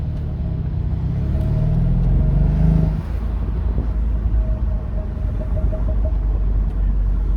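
A 2013 Mercedes SL550 engine rumbles and revs as it pulls in second gear, a steady droning tone that eases slightly partway through.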